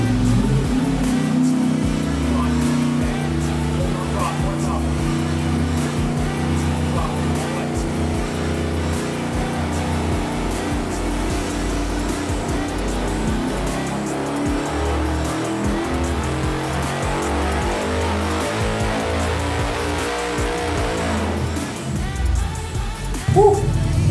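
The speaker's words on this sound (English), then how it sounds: "It's gonna go all the way, and you'll hear the motor come back a little bit" A 5.3 LS V8 swapped 240 drift car roars through a sustained full-throttle dyno pull, a loud continuous engine howl climbing in pitch and holding near and steady before easing off at the end.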